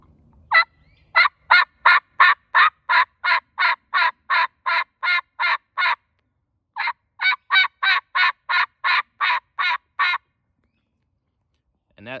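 A turkey call imitating a hen's soft yelp gives a long, steady series of evenly spaced yelps, a short pause, then another run, loud and close with no talking.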